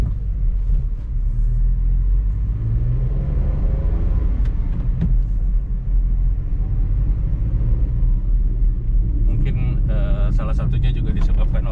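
A 2019 Datsun GO Panca facelift on a test drive produces a steady, loud low engine and road rumble from inside the cabin, with faint rattles and clicks breaking through near the end.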